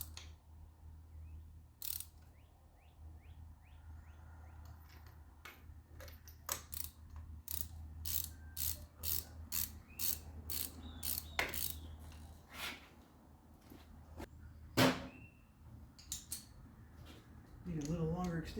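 A ratchet snugging spark plugs on a Volkswagen Passat 2.0T, a long series of quick metallic clicks in irregular bursts, close by, over a low steady hum.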